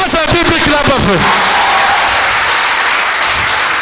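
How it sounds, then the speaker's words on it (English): A church congregation breaks into loud, dense clapping that fills the space, while a raised voice carries over the first second before the applause continues alone. "give Jesus a big clap of it."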